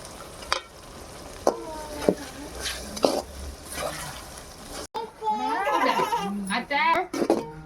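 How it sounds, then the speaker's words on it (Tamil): Tomatoes dropped onto sautéed onions in a pan for a curry, cooked outdoors on a terrace: scattered stirring clatter, then a loud, bubbling sizzle as the tomatoes hit, with a voice heard speaking intermittently. "வெங்காயத்தை வதக்கியாச்சு, தக்காளி பழத்தை போட வேண்டியது தான்."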